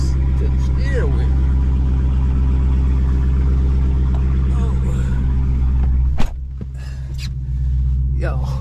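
A Dodge Hellcat muscle car idles with a deep, steady engine rumble close by, while someone talks over it and the engine note shifts near the end.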